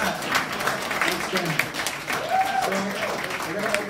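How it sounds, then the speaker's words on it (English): Clapping from an audience at a blockchain investment talk mixed with cheering and voices, lasting a few seconds at a moderate, steady level. "Round of applause for that."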